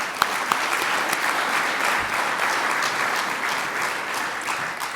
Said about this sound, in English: Let's give a round of applause for McKenna.